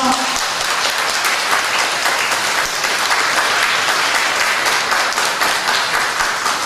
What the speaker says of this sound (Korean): 여러분의 큰 박수로